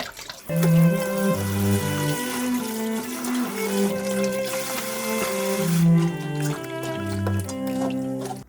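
Pieces of kalopanax (eomnamu) bark washed under a running kitchen tap for a Korean duck stew, a steady splash of water under loud, melodic background music.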